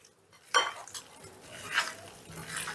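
Soybean chunks are mixed with spices and gram flour in a bowl for soybean do pyaza, giving soft scraping, stirring and occasional clinks of utensil against the dish, with a sharper knock near the start and quieter rustles after.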